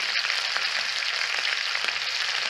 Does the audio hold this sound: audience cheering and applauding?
no